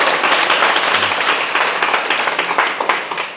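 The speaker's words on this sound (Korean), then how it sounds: "이분 또 오면 된다고 박수 쳐주세요." Loud, dense applause from an audience at a Korean Buddhist question-and-answer talk, steady clapping throughout with no one speaking.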